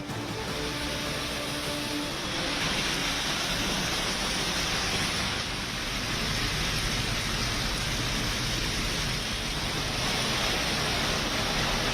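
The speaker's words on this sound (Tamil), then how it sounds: "மகாராஷ்டிரா மாநிலம் மும்பையில் கொட்டி தீர்த்த கனமழை." Heavy rain pours in Mumbai, Maharashtra, a dense, steady hiss of downpour that stays loud and unbroken throughout, with no talk.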